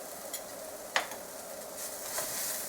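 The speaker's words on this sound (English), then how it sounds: "I'm going to add the coriander powder next. Give it a stir." A spoon scrapes and stirs through beef stew in a pot after coriander powder goes in, with a few faint clinks and soft sizzling at low level and no talking.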